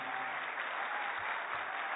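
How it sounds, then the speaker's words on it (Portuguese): Steady, dense applause from an audience honoring 27 Brazilian children at a national child literacy pledge event, a continuous wash of many hands clapping at even loudness with no talk. "eu queria pedir uma salva de palmas às nossas crianças brasileiras aqui presentes"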